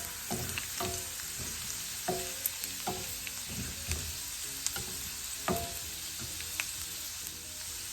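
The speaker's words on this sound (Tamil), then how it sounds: "இந்த உள்ளி இஞ்சி அதில் கொஞ்சம் லேசாக பொரியட்டும்" Garlic and ginger fry lightly in hot oil with a constant hiss and crackle, broken by the repeated scrape and knock of a utensil stirring the pan.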